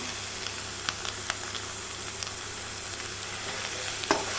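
Goat blood fry with a handful of coriander leaves sizzling steadily in the pan, with a few sharp scraping stirs of a spoon over the continuous close, moderate frying hiss and no talking.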